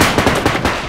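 Rapid automatic Uzi fire from the BodyCam first-person shooter game, a loud close burst of several quick shots fired in a tight rhythm, with no speech over it.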